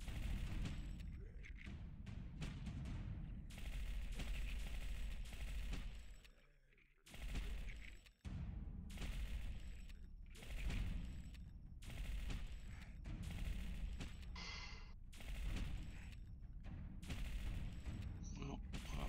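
Rapid, loud bursts of gunfire from the video game Entropia Universe, set in a forest temple, repeat in clusters with a few short pauses between volleys, with a voice briefly heard.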